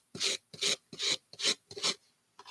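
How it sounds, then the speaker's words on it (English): Six rhythmic rasping strokes of a sanding block scraping back and forth on wood, close and evenly paced, with brief pauses between strokes. "I'm going to take my little sanding block"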